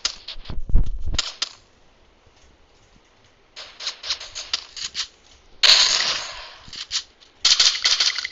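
Gun fire in the Free Fire mobile game, with quick bursts and single shots spread across several seconds, crisp and clipped, separated by short silent gaps.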